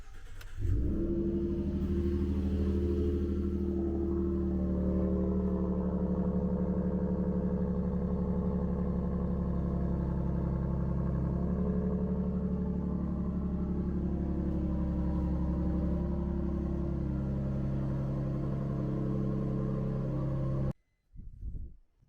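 A Ford F150 pickup truck rolls into a barn, its engine rumbling steadily and close for about twenty seconds, then cutting off abruptly, followed by a brief thud.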